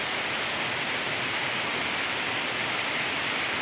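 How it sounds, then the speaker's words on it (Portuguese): River water rushes over boulders and rock slabs on the Pajeú in the dry backcountry near Triunfo, Pernambuco, a dense, steady roar that fills the whole clip with no voices. "A água segue o seu curso natural aí, né?"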